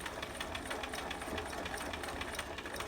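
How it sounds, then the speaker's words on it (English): A sewing machine straight-stitches soft Velcro onto a shirt, a steady rapid mechanical chatter running continuously at moderate volume with no pauses or talk. "I always stitch my soft Velcro down with a straight stitch"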